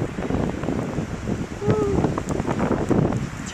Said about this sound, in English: Oh, the wind is bad.